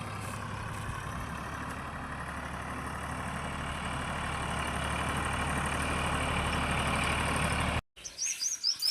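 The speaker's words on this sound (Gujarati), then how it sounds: "જો મિત્રો ટ્રેક્ટર આવ્યું" A tractor engine rumbles steadily at idle for several seconds, with faint birds chirping in the background, then the sound cuts off abruptly.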